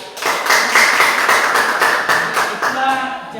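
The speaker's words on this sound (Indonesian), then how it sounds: "Baik, tepuk tangan." A classroom of students claps hands during a Catholic religious education lesson, a dense run of overlapping claps with rhythmic pulses lasting about three seconds before tapering off.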